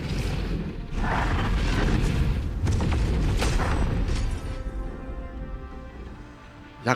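A continuous barrage of loud booming blasts and crackling bursts from a fireworks attack in a mobile RPG rolls on for several seconds, fading toward the end before a final sharp pop.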